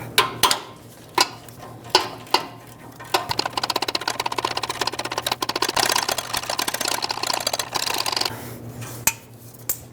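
A ratchet works a nut off near the engine mount during exhaust manifold and catalytic converter work on a 2012-2017 Toyota Camry: a few separate clicks, then a long run of rapid close metallic clicking that slows and stops.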